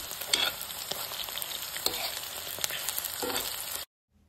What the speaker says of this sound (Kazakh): Осылай қызарғанша қуырып аламыз.